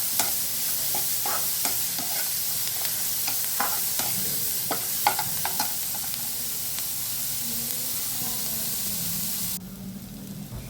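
Onions frying in a pan as bitter gourd is prepared, a continuous close sizzle punctuated by repeated scraping strokes of stirring, easing into a quieter hiss near the end.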